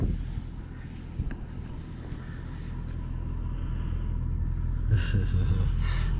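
A car is driven away from a shop on heavy throttle, its engine a steady low rumble that swells slightly louder over the clip, with some wind buffeting and a brief brighter burst near the end.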